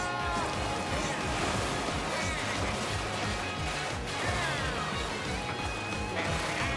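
Ocean waves in the Mario Kart World video game: a continuous rushing surf and crash that runs unbroken under busy game music and effects, loud and constant throughout.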